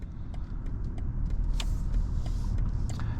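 A 2020 BMW 740i's V8 engine heard from inside the cabin while driving, a steady low rumble with road noise and faint clicks and rattles throughout.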